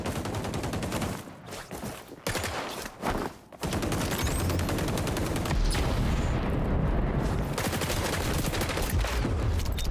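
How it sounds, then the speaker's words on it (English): Sustained rapid gunfire in the video game XDefiant, loud and dense bursts running almost continuously with a couple of brief gaps early on, no talking. "Why was I shooting his feet?"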